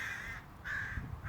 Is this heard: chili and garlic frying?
no